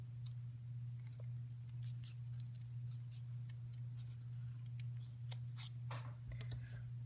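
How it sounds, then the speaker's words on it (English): Scissors snip through folded cardboard to cut out the middle of rings for a pom pom, a rapid string of close, crisp cuts over a steady low electrical hum. "I'm going to fold this in half and cut the center out"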